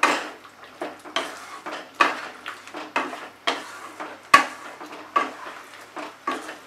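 A spoon mixing potato and papaya dalna with garam masala and ghee in a pot, a run of quick clinks and scrapes of metal against the pot, close and fairly regular.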